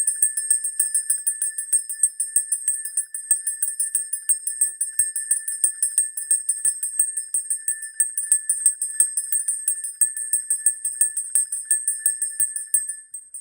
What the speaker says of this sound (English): Okay, I should just ring my bell. Ring my bell. Here we go. Ringing.